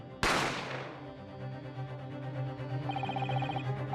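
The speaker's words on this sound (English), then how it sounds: "You heard the gunshot, you mean?" A single sharp gunshot effect from The Great Ace Attorney cracks loudly and then decays into a long ringing tail while game music carries on underneath.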